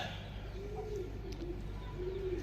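A pigeon coos in low, rolling phrases, steady and fairly close, over a constant background hum with no voices.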